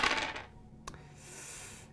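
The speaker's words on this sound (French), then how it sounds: "On roule 4 dés, puis on va enlever les 2 plus hauts résultats." Dice rolled for a tabletop role-playing game land in a quick clattering rush followed by a single sharp click, close and alone with no talk.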